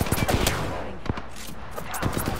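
Rapid video game gunfire in a sci-fi shooter, a burst of sharp, close shots and automatic fire crackling across two seconds, with brief voice chatter mixed in.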